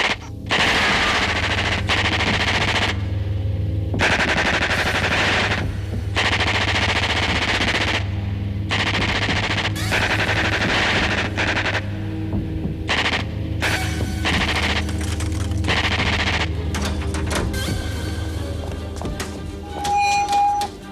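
Soldiers fire rapid machine-gun and rifle bursts in a 1989 period drama, a loud, sustained barrage of repeated volleys over a low throbbing hum.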